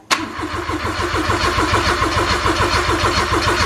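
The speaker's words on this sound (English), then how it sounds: "we're going to disconnect the coils, and we're going to see if we can crank it over" A 660cc turbo engine in a Daihatsu Mira Avanzato TR-XX cranks over steadily on the starter with its coils disconnected, a rhythmic churning that runs loud and close for several seconds without firing.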